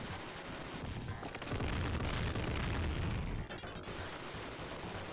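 Sega Megadrive Robocop Versus The Terminator gameplay with dense, continuous gunfire and explosions, a noisy wall of blasts that swells louder for a couple of seconds in the middle, then settles back.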